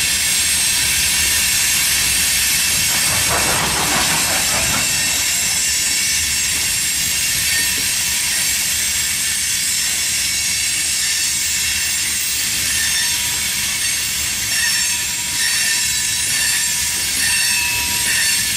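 CSX freight grain train with railroad cars passing by Main Street on a line into a yard, a loud sustained rolling rumble with persistent high-pitched wheel squeal and a brief clattering burst early on.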